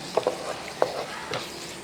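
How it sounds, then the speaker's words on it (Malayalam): Spoon stirring fried coconut through madhura curry in a pan, three or four short close scrapes and clicks over a soft steady sizzle. "തേങ്ങയും കൂടെ വറുത്ത തേങ്ങയും കൂടെ ഇട്ടൊന്ന് ഇളക്കി"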